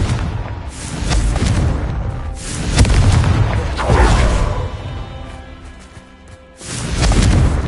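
A Confringo spell explosion in the Hogwarts video game: heavy booming blasts with rushing, crashing tails, loud and repeated over several seconds, with a brief lull before another burst.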